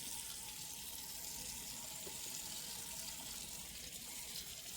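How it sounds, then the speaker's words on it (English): Cold tap water runs steadily into a kitchen sink fitted with a garbage disposal, a faint, even stream that continues alone for about five seconds. "I run cold water in there, and I run it for like 15 seconds with degreaser in there."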